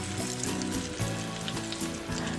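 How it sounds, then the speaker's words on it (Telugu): One kilo of mutton frying loudly in a pan for a mutton curry, a steady close sizzle with stirring clatter running throughout, no talking. "ముందుగానే శుభ్రంగా కడిగి పెట్టుకున్న ఒక కిలో మటన్ని కూడా ఇందులో వేసేసుకుంటున్నాను"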